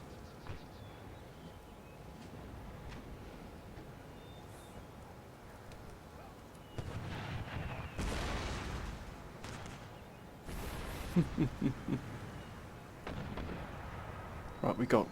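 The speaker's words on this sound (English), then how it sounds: "Right, we got artillery fire and response here." Artillery fire rumbles through a battle in Empire: Total War, with muffled booms and crackling shots that grow denser in the second half, heard at a distance over steady background ambience.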